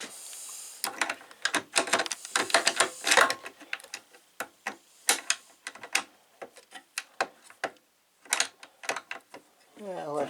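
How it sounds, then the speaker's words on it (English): The bolt of a Savage model 340 rifle is slid in and worked, making a string of sharp metallic clicks and clacks in uneven bursts, close by, mixed with speech. "Let's put the bolt back in it"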